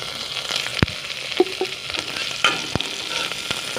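Onion and boiled chicken frying in a pan for chicken biryani, a steady close sizzle broken by sharp crackles and pops, with no one talking.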